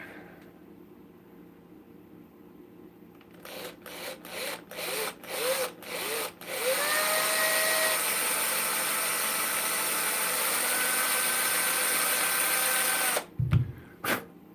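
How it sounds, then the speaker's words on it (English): A power drill bores a hole into a small wooden spinning top made from woodturning leftovers, starting with several short bursts and then running in one long steady whine before stopping. "drill a hole in it"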